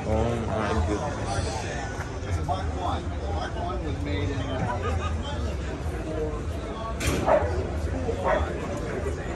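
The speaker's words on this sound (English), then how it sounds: "Oh, what a beautiful dog that is." A dog barks and yips a few times at an outdoor classic car show in Burbank, the barks mixed under close talk and general crowd chatter.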